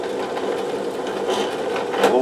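A power drill boring screw holes for a guitar pickup, a steady whirring hum with slight rises in pitch as the bit cuts, close and continuous.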